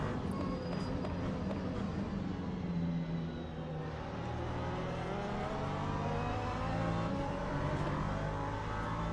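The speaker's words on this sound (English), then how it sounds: "LMP2s just sound so good" LMP2 prototype race cars in a sim racing game roar continuously, the engine note rising and shifting through gears with a steady, dense mechanical whine and no one speaking.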